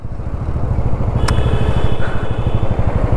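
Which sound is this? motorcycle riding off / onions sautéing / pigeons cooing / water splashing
motorcycle riding off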